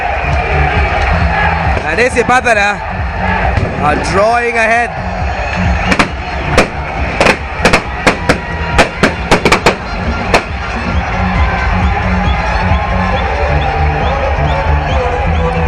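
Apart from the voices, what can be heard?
crowd roaring at a rugby match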